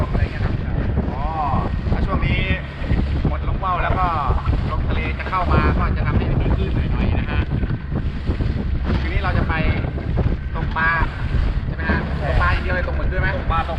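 A speedboat heads out from the shore on a fishing and squid-fishing trip. Wind roars steadily over the microphone along with engine and water noise, while people talk throughout.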